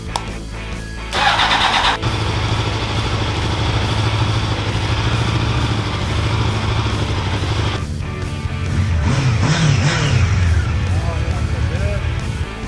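A restored 1995 Honda CB1000 motorcycle engine cranks briefly, fires and settles into a loud, steady idle, then revs up near the end.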